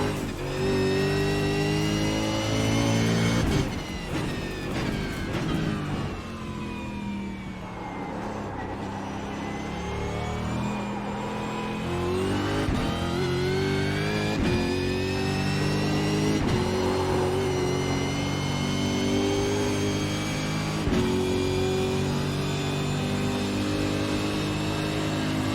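Racing simulator game audio of a race car engine revving steadily, pitch climbing and dropping through gear shifts in a loud, continuous drone with no pauses.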